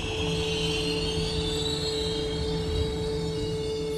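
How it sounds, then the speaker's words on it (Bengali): A train comes into a nearly dark station at night in an audio-drama scene, producing a steady, loud rumble with a sustained metallic hum and a faint high whine throughout, with no talking. "ট্রেন এসে থামল একটা প্রায় অন্ধকার স্টেশন।"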